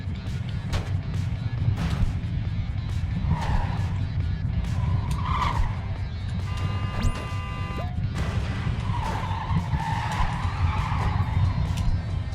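Trucks bouncing and skidding in the video game Clustertruck, a steady rumbling roar with repeated tire skids and scrapes, plus a brief rising whistle, all loud and continuous with no talk.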